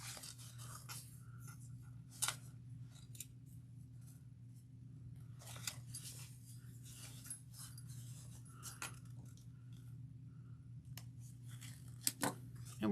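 Scissors make several sharp, quick snips while trimming the corners off sewn fabric for a tote bag, close up over a steady low hum with quiet handling noises between cuts.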